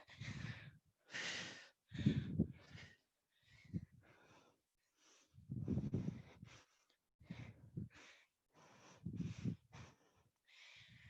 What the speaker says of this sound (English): Hear me breathing.